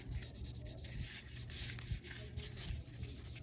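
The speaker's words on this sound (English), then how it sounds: "the paper makes that sound that I love" Dry, continuous rubbing and scraping of stiff tarot card paper against paper, close up and steady, with a light hiss and no voices.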